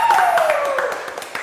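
Hands clap in congratulation on a Thai entertainment talk show: a brief scatter of light, quick claps heard together with a speaking voice.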